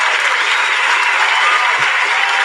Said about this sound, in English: Thank you for that applause, everyone